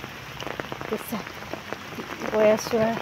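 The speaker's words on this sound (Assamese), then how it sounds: "বৰ্তমান এয়া পূৰা বৰষুণ দি আছে" Heavy rain falls in a rural village, a steady close patter of drops on surfaces throughout, with someone speaking briefly over it.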